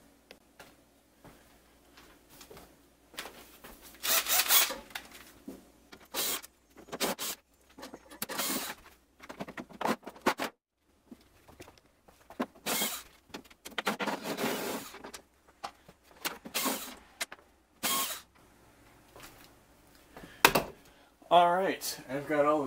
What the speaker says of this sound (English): Alright, I've got all the screws unscrewed.